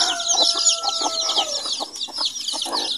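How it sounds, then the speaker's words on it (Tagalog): Chickens cluck and many young chicks peep together on a farm, a busy overlapping chorus of high chirps and low clucks, close and fairly loud. "Dami nating sisiw."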